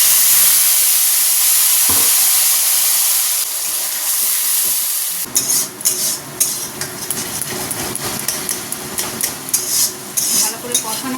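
Ground spice paste hits hot oil in a pan with green chillies and nigella seeds, giving a loud, steady sizzle, followed by clattering scrapes and knocks of a utensil stirring the mixture.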